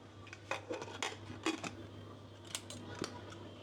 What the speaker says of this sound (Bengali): আমি প্রেশার কুকারে দিয়ে চুলার উপর নিয়ে যাচ্ছি